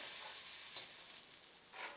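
Beef fried rice stir-fried in a wok over high heat gives a steady, bright sizzle throughout, with a couple of brief scraping stirs of the spatula near the start and end.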